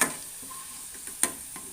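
Sliced bitter gourd frying in a pan of oil gives a faint, steady sizzle, with a couple of soft clicks as the pieces are stirred.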